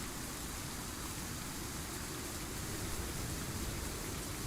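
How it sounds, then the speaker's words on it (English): Steady, loud rain ambience from the video game Limbus Company, a dense broadband hiss that runs unbroken and evenly throughout with no voices. "the rain is very loud"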